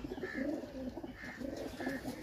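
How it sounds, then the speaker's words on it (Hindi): Repeated soft coos from a show pigeon of a famous paired breed in Sialkot, three low throaty phrases spaced about a second apart, close by over a quiet background. "तूफान कबूतर है जी"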